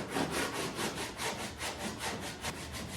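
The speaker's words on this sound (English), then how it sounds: "Get this sanded off." Old paint is sanded off the body of a 1958 Chevy by hand in rhythmic back-and-forth strokes, a steady rasping scrub repeating about every quarter second, moderately close and alone.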